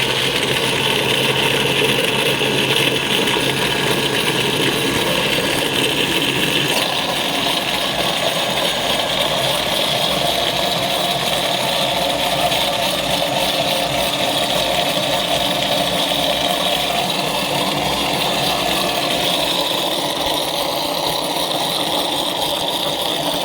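Electric grinder running steadily while blending falsa berries for sharbat, a loud continuous motor whir with no pauses and no talking.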